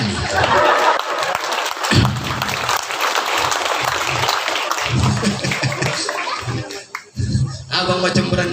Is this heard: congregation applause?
yes